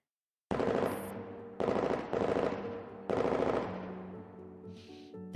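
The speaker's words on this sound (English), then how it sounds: "The sound of gunfire echoes through the cramped room." Automatic gunfire from a Girls' Frontline game scene rings through a cramped room in three sharp rapid bursts, each trailing off in echo, with faint chimes between.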